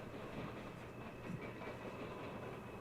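A freight train carrying loads of steel rolls past as a steady, faint rumble with soft clatter and hiss, continuous and distant-sounding throughout.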